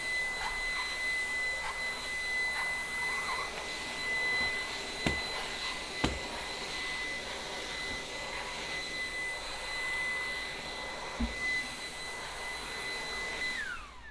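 A steady, high-pitched motor whine with a broad airy rush runs throughout from a Dreame T20 cordless vacuum cleaner on turbo mode, with a couple of brief knocks.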